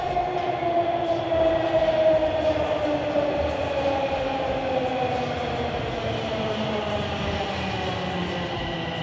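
A subway train runs loudly and continuously, with a droning motor whine sliding gradually downward in pitch over a rumbling, rattling background.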